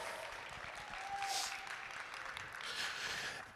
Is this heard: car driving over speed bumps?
no